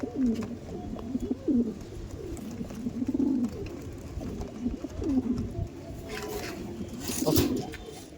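A pair of Andhra pigeons, a black-headed male and a red-headed female, give a series of about six deep, rolling coos at a steady pace, close and clear over background noise.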